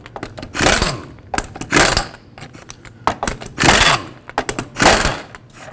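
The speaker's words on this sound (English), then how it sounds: "you'll have to remove these lug nut covers first with a 19mm socket" 19mm socket wrench on lug nut covers of a 2006-2011 Chevrolet HHR steel wheel, bursts of rapid metallic ratcheting repeated four times with brief clicks between, close and fairly loud, no speech.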